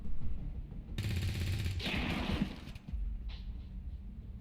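A gunshot in XCOM 2: a short burst of sharp shots about a second in, followed by a hissing blast and a fading tail, over low game ambience, with no talking.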